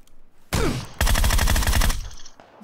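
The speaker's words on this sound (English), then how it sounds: "shotguns are useless in this game" Video game gunfire with shotgun blasts, loud and close, in two dense bursts: a heavy roar followed by a rapid rattling volley, then a quieter tail.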